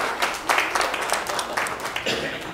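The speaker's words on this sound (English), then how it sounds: "See, I knew you were clapping for them" A church congregation claps loosely and unevenly during a Sunday Advent service, the applause rising and falling in scattered bursts.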